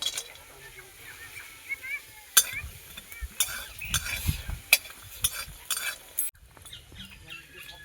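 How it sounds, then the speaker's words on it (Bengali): Lentil bori frying in hot mustard oil, a low sizzle with intermittent bursts of stirring and spatula scraping, close by, ending in a quieter stretch. "সর্ষের তেল দিয়ে বড়িগুলো ভেজে নেব"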